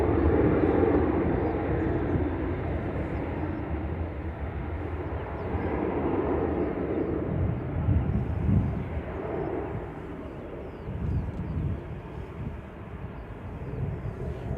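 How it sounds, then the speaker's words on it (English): Ryanair Boeing 737-800 airliner departing Manchester Airport, with a steady, fairly distant jet engine roar that swells and fades slightly over a low rumble, no talk. "This is the Ryanair that wasn't in a rush."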